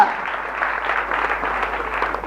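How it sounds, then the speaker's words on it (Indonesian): A church congregation applauds together in a steady, moderately loud wash of clapping that carries evenly through the moment, with faint voices mixed in. "Tepuk tangan buat Tuhan."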